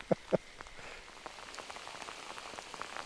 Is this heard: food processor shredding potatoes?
no